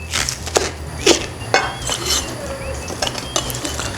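A knife chops green onion into large pieces on a cutting board in a series of sharp, irregular knocks, close by, with faint clinks of kitchenware around them.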